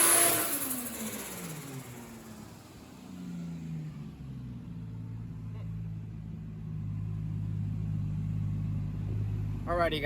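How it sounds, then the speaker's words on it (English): A 1JZ-powered Toyota Supra Mk3 rumbles at low idle while backing slowly out of a dyno shop, its engine note shifting and steadying throughout, close and moderately loud, with a brief sharp noise at the very end. "the Mark III is backing out of Apexi"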